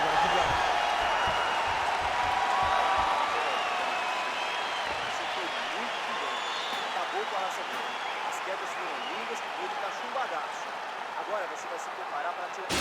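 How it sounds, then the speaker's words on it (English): Arena crowd at a UFC 283 bout cheering and applauding after a round, a dense, sustained roar of many voices with scattered claps, steady and loud throughout, fading slightly toward the end. "So the crowd voicing its appreciation after that round"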